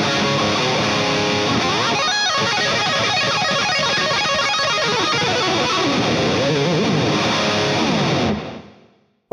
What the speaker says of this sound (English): let's hear it with the overdrive on